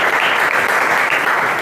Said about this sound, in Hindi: एक बार जोरदार ताली उनके लिए होना चाहिए।